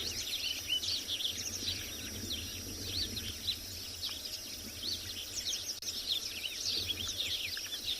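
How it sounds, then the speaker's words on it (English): A dense chorus of many birds chirping and calling at once on a South African morning safari, overlapping notes over a steady background hum of insects. "It just sounds like a whole bunch of notes from various birds just jumbled all together."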